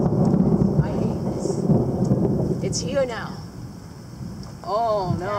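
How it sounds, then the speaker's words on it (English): Close thunder rumbling through a summer thunderstorm, a loud low roll with rain and wind noise on the microphone, while a person speaks and exclaims over it. "since the lightning hit, thunder was about like 5 seconds after that"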